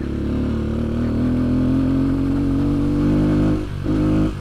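Fantic 125 motorcycle engine labouring up a steep dirt path, a steady loud mid-pitched drone with slight rises in revs and a brief dip near the end, close to the rider.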